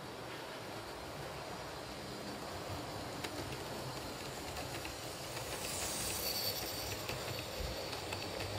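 A model train rolls along the track and slows under braking, a steady mid-level rumble of wheels on rail with a faint hiss, growing slightly louder toward the end.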